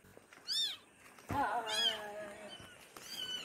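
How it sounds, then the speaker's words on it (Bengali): A newborn kitten giving three thin, high meows spaced a second or so apart, close and fairly quiet against a soft background. "কুকুরের বাচ্চা না, ওটা বিড়ালের বাচ্চা।"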